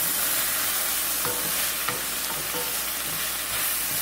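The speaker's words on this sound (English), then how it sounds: "now I'm going to stir this up" Italian chicken and rice being stirred in a frying pan with garlic, a steady loud sizzle throughout with scraping strokes of the spoon breaking through at intervals, close up and without talk.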